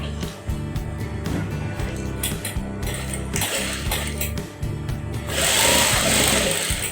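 A sewing machine runs steadily, stitching folded fabric for a cloth mask with a fast, continuous mechanical whir and clatter. Its speed rises toward the end.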